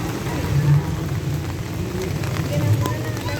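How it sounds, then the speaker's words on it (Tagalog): Heavy rain pours outside Pasig City Hall during Christmas lighting season, a dense continuous hiss of rainfall on surfaces, fairly loud and steady, with people talking nearby. "Umuulan kasi, sobrang lakas."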